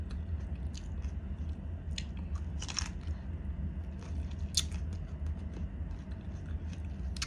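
Close crunching bites and chewing of crunchy kanafeh chocolate, crisp irregular crackles over a low steady background, quiet and without talking.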